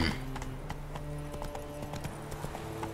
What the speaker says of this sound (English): so you can ride the horse, you just can't sprint with it